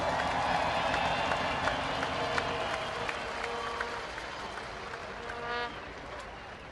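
Broad, sustained applause from a crowd at a speedway superstock teams championship, celebrating the second-place team; steady dense clapping throughout, with some cheering and a brief higher burst near the end.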